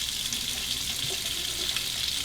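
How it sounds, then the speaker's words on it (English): Steady hiss of hot water running from a tap while a metal Parker 68S stainless safety razor loaded with a Parker blade is warmed under the stream, continuous and close with no talking. "Let me warm the metal up under the hot water."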